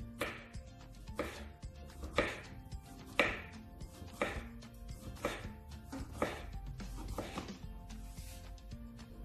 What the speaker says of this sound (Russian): Берем молоденькие кабачки, нарезаем тонкими кружочками, при этом кожицу мы не счищаем.